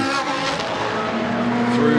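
A Ferrari 458 Challenge race car works through the Monza chicane, its engine note loud and steady with tyre scrub and a commentator talking over it.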